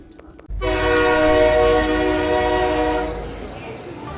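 A train horn blares at Sealdah railway station in the early morning, starting abruptly and holding a loud, sustained, harmonically rich tone for about two and a half seconds before fading into station rumble.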